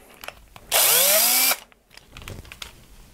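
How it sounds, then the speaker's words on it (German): A power drill with an 8 mm bit whirs up loudly for under a second, its pitch rising as it spins, then stops; light clicks and handling noises surround it. "So, jetzt mit dem 8er Bohrer."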